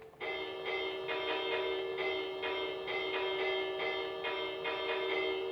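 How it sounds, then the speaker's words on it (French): A bell in Minecraft 1.14 being struck repeatedly, ringing out in a regular series of bright, clear chimes with overlapping decay, loud and close, with no voices. "la cloche qui fait un bruit, regardez"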